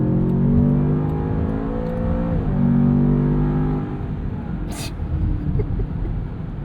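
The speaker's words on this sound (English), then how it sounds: "All right, let's leave this in auto and we'll do kickdown" A 626 hp twin-turbo V8 in a 2026 Land Rover Defender Octa, left in auto, surges under kickdown: a loud, close engine drone climbs, dips briefly at a gearshift, then pulls hard again before easing.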